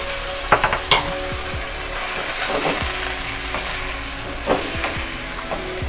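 Steady sizzling of garlic and ginger frying in a hot pan, with a few clinks and scrapes of a spoon stirring near the start and middle.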